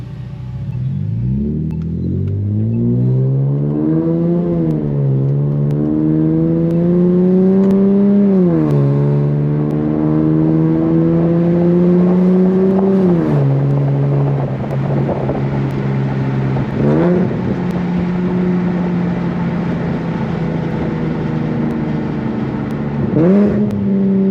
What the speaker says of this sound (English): this exhaust honestly sounds pretty good